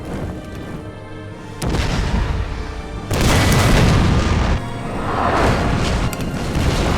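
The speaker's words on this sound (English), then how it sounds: "The British artillery opened fire, inflicting serious casualties." British artillery firing in a Total War battle set in the Sudan Mahdist Wars, with loud booming blasts and rumbling explosions layered over continuous battle noise.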